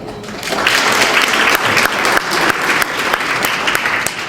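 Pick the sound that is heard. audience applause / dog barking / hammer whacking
audience applause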